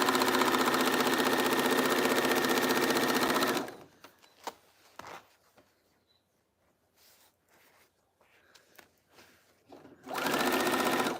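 A sewing machine runs loudly and steadily at close range, stitching fabric to finish a diamond art piece, then stops for several seconds of faint clicks and handling before starting again.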